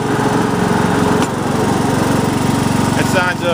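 Toro lawn tractor engine running steadily with its mower blade engaged, a loud, continuous droning hum close by that holds an even pitch throughout, with a faint voice briefly audible near the end.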